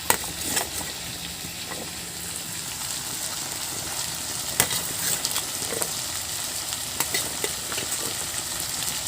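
Small finely cut potatoes hit the hot pan with chicken curry, giving a steady close sizzle with scattered crackles and pops, no talking.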